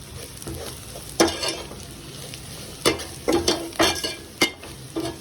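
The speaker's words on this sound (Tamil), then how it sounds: "ஸோ நல்லா வதங்கட்டும் வெங்காயம்." Onions with garam masala for egg bhurji sizzle steadily in a pan, and several sharp scrapes and clanks of a spatula stirring against the metal cut through, bunched toward the second half.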